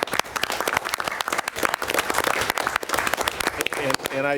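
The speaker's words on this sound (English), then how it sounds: "So I really think we should give them a round of applause." Applause from the audience at a county board meeting, a dense burst of many hands clapping at close range that thins out toward the end.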